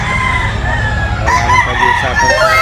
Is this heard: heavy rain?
no